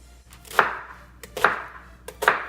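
Washed onions are chopped into big squares with a knife on a board. Three crisp, separate chops land at an even pace, close and clear, with no talking.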